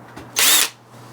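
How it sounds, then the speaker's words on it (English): An electric drill fitted for sanding whirs in a short, loud burst of about a third of a second while sanding paint in a Honda EK K24 project car engine bay, with quiet hum before and after. "I gotta use this drill to get into deep places."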